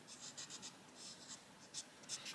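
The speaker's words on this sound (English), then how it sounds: "Just putting some pencil where I think it might need it." Coloured pencil rubbing across paper while filling in an adult colouring planner, a soft scratchy shading sound in short irregular strokes, close and quiet with no talk.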